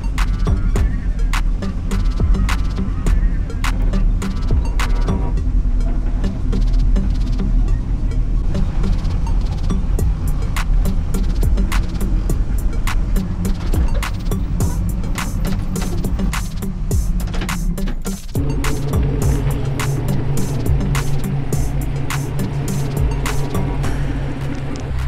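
Car interior drive home from a Cars and Coffee meet in Saskatoon, Saskatchewan: steady low engine and road rumble throughout, with a brief dip and shift in tone near the end, no talking.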